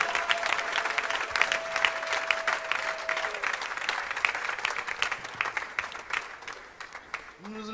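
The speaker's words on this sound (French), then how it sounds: "Nous pouvons acclamer le Seigneur très fort" A church congregation applauds with sustained, dense clapping at close range, and a held tone sounds early on. The clapping runs steadily for several seconds before thinning, and a voice can be heard near the end.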